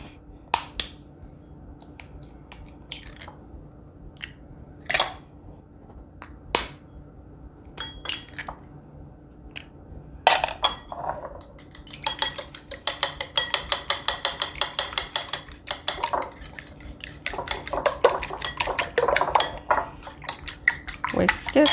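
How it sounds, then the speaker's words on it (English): Two eggs are whisked in a bowl for banana bread: scattered utensil clinks at first, then a fast, even run of metallic taps against the bowl, close and fairly loud, with a little talk nearby. "I'm gonna whisk 2 eggs."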